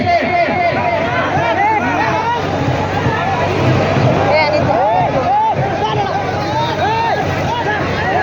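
A large rally crowd for Jairam Mahto, with a dense, steady hubbub of many voices, loud and close, with shouting and chanting rising over the constant babble.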